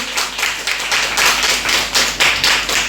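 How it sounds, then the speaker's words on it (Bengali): An audience at an art school's autumn arts festival prize-giving claps together, brisk uneven applause in quick bursts lasting about three seconds, loud and close with no talking. "জোরে একটা হাততালি"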